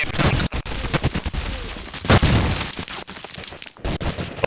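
Dense, loud gunfire and blasts from a shooter video game, with a grenade going off amid continuous bursts and sharp cracks over about four seconds.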